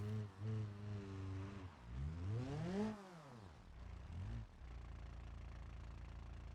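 A Moskvich running a BMW engine, low on oil and overheating in BeamNG Drive, idles unevenly, its pitch swooping up and down in a few revs before settling into a steady low drone.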